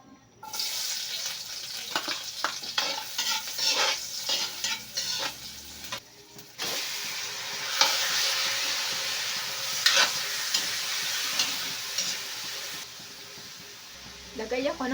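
Garlic, onion and ginger hit hot oil in a pan for chicken afritada: a steady sizzle with scraping stirs, loud and close, continuing through most of the stretch while someone talks now and then.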